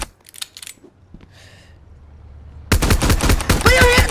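Gunfire erupts during a truck robbery scene: a dense, loud burst of rapid shots follows a quieter stretch of faint shuffling and clicks.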